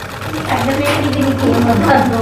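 Sewing machine stitching piping close beside the thread line on cloth in a tailoring class, a steady near whirring motor hum that runs throughout with voices talking over it.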